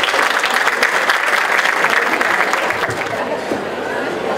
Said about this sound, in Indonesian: Hadirin, kita berikan tepuk tangan untuk Bapak Sutikno Sudaryo.